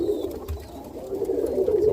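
Roller pigeon cooing softly in a loft, a low, close, murmuring coo that rises and falls steadily with faint background noise.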